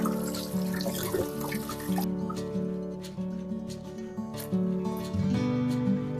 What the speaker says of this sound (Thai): เสร็จแล้วนะคะก็ให้เรานำไข่แดงมาล้างทำความสะอาดค่ะ